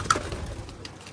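Racing pigeons in a loft give a brief soft coo, short and close, with light rustling around it.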